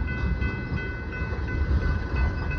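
A tanker freight train slows for a crew change, giving a steady low rumble of rolling cars with faint high whine, continuous and fairly near, with no voices.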